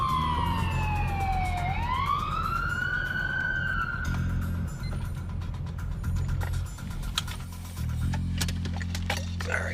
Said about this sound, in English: the officer understandably turns on his siren and tries to chase after him